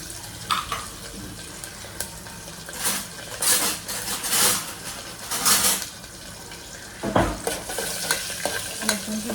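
Garlic and asafoetida frying in hot oil, with cumin already in the pan, giving a steady sizzle with bursts of louder crackle and stirring scrapes, close by and with no voices.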